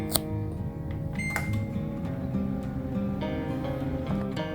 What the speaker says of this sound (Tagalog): Tapos iinit ko na sa oven. 3 to 4 minutes, okay na yan.